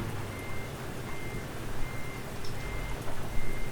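A truck in Euro Truck Simulator 2, hauling heavy cargo through Scandinavia, sounds steady repeating reverse beeps over a continuous low engine rumble as it backs up, with no talk.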